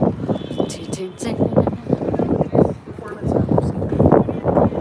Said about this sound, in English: It's really fucking windy right at this very spot that we're standing.